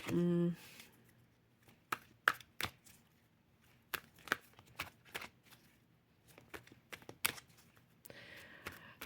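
Tarot cards being shuffled and dealt give off a run of crisp, irregular snaps and flicks, close by, with quiet pauses between them.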